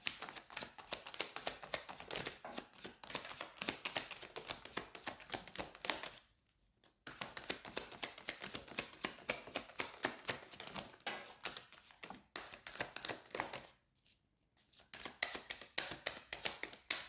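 A deck of tarot-style cards being shuffled and pulled, with steady dense riffling and tapping for several seconds, two brief pauses, then more shuffling, close and alone without speech.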